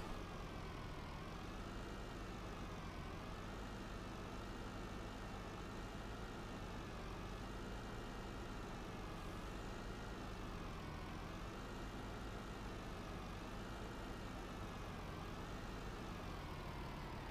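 A tow truck engine idles in Farming Simulator 19 with a steady, droning low rumble. The pitch wavers slowly while the engine runs on continuously at a constant level, and nobody speaks.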